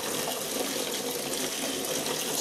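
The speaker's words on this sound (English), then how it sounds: "going to rinse it with water, no shortage of water" Steady stream of tap water running continuously while spinach is rinsed for cooking and freezing, a close, even gush with no breaks and no talk.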